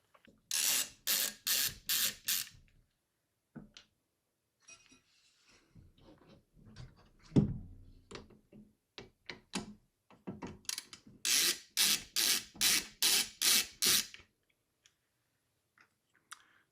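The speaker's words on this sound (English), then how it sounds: "After loosening the two screws on the I/O cover plate" Small screws on the I/O cover plate of a Minisforum MS-S1 Max mini PC are loosened with a screwdriver, producing two bursts of rapid close ratcheting clicks separated by scattered softer taps and handling noises.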